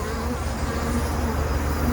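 Honey bees buzz densely at a beehive, a steady close drone of many wings that holds at an even loudness without pause.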